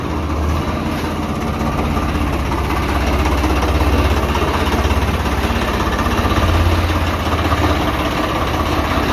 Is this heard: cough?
no